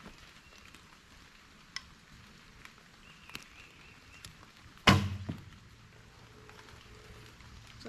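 A four-fletched arrow strikes a 3D archery target on an outdoor course with a single sharp thud midway, faint at a distance, over quiet outdoor ambience with a few soft ticks.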